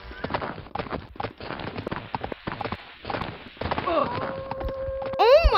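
Horse hooves clip-clop in the block-building video game Mini Block Craft, a quick run of close, hollow taps with a few brighter tones and effects near the end.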